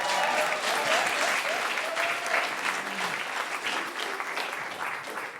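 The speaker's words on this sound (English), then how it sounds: "Round of applause." An audience claps steadily through a round of applause at a film quiz podcast recording, a dense, even wash of many hands that fades slightly toward the end, with no voices over it.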